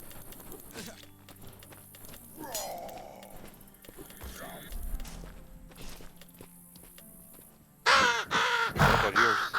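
Crows caw in the video game Mortal Online 2, a few harsh calls heard amid ambient game sounds and footsteps, with a louder burst of cawing near the end.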